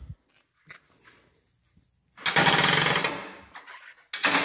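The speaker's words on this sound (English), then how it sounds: "Just ratchet that up on that side." Ratchet on the arm of a 1up USA bike rack, heard as scattered faint clicks followed by a loud, close, rapid run of ratcheting about a second and a half long, then a short final burst.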